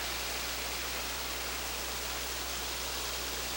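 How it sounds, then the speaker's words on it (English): A small waterfall crossing a Smoky Mountains trail rushes in a steady, dense wash of falling water, loud and close, unbroken throughout with no voices. "The trail goes right across this little waterfall"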